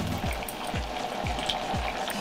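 Garlic frying in oil in a tilted frying pan for a mushroom pasta, a continuous close sizzle with a low, regular bubbling pulse repeating underneath.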